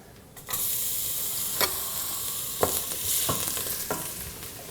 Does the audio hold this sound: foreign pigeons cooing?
no